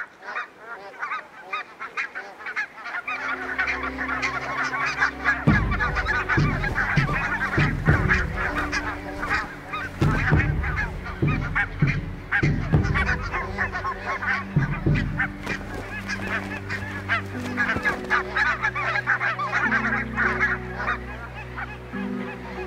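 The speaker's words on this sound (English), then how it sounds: "Barnacle geese only use the small island as a breeding ground, not as a foraging ground." A crowded colony of barnacle geese honking continuously on a small breeding island, many overlapping calls near and far forming a dense, loud chorus throughout.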